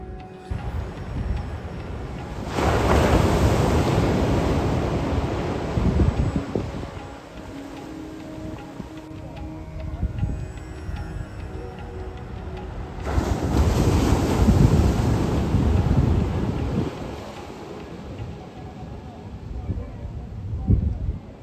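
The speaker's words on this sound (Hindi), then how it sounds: "ऐसे समुद्र के किनारे किनारे समुद्र के लहरों का मज़ा लेते हुए हम पैदल पैदल जा रहे" Sea waves surge onto the shore at Somnath in two loud, long washes with quieter lulls between them, while strong wind buffets the microphone.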